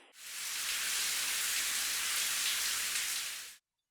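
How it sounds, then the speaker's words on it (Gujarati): Steady unseasonal rain in Dahod and Jamnagar, Gujarat, pours down in a dense, even hiss that starts abruptly and holds constant before cutting off near the end. "કેટલાક વિસ્તારોમાં શરૂ થયો કમોસમી વરસાદ"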